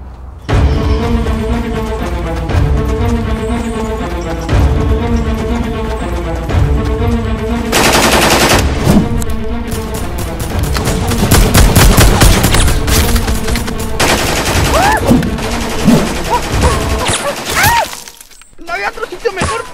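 Rapid bursts of staged gunfire and shattering crashes from a live-action Fortnite parody fight, loud and dense, mixed with music and shouting voices throughout.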